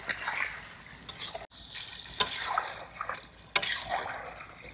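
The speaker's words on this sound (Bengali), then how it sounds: "মা, মাংসটা কষানো হয়ে গেছে, এবার জলটা দিয়ে দাও।" Meat curry being sautéed in a pot at a riverside picnic sizzles and crackles steadily, with water poured in and stirring clatter breaking through in a few sharp spikes.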